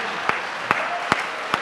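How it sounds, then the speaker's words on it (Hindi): An audience applauds at a Hindi comedy poetry show, a Hasya Kavi Sammelan. Four sharp, evenly spaced claps sound roughly every 0.4 seconds, like a slow rhythmic clap, over a soft background murmur. "ताली"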